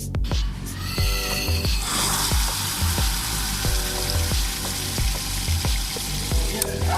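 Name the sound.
water drawn from tap, running with pressure pump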